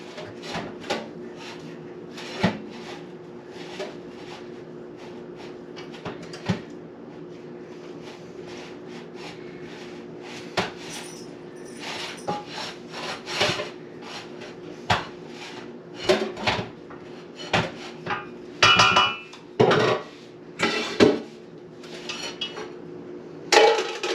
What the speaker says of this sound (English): I like to press my hamburger to drain it